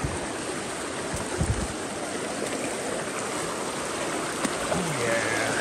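Water rushes steadily through a gold-prospecting sluice box, a dense, continuous close-up wash with a few small knocks.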